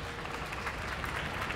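Audience at a high school music festival concert claps for the concert band's assistant conductor, a fairly quiet but continuous spread of applause from a sizable crowd.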